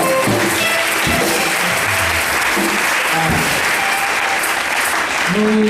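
A church congregation at a New Year's Eve night service applauds loudly and continuously. Thick, close clapping mixes with raised voices and cheering acclamation throughout.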